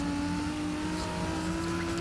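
A Toyota Supra fitted with a body kit and large rear fins cruises along winding roads, its engine holding a steady, continuous drone with a low tonal hum, close and moderately loud with no talking.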